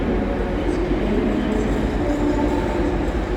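Class 185 train, unit 185103, running on the Hull to Manchester Piccadilly service at Dewsbury station, a steady, loud, close rumble of engine and wheels that holds constant throughout.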